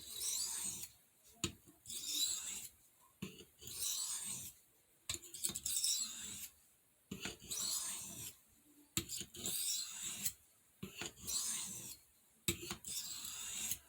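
A knife is worked against a sharpening stone to remove the burr, heard as quiet, close rasping strokes in irregular bursts separated by short pauses, with no voices.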